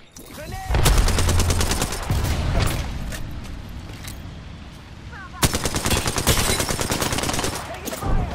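Rapid automatic gunfire erupts in two long bursts during a match of the video game Apex Legends, loud and close, with a quieter stretch of scattered shots and mechanical clatter between them.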